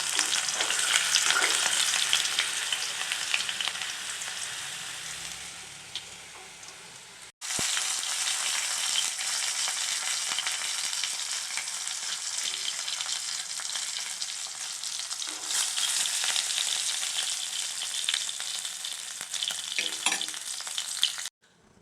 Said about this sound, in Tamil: அதை எடுத்து வந்து நான் பொறிச்சு கொண்டு இருக்கிறேன்